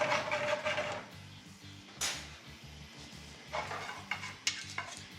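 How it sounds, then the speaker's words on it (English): Garlic sautés in olive oil in a pan with a soft, faint sizzle. Bursts of stirring and a few sharp clinks of a utensil against the pan break in at intervals. "I'm gonna throw the garlic on, which we already have in the pan, and we're gonna start sauteing it with a little bit of olive oil"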